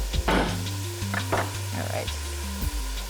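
Food browning in a hot pan for a cheesy farmer's pasta, a soft constant sizzle under clinking and a rhythmic low tonal hum, with brief knocks of utensils.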